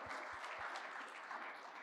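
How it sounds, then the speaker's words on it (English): An audience at an infrastructure and utilities conference event gives a quick round of applause for the organizer and staff, a faint, distant, even patter of clapping that continues steadily throughout. "about a quick round of applause for Ken and the staff for putting together the event today"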